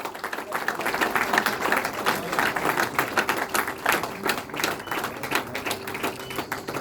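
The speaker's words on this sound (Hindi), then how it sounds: "जोरदार तालियां सर के लिए" Audience at a university National Sports Day celebration claps for an athletics coach, a scattered, uneven patter of hands rising and falling over several seconds at moderate loudness.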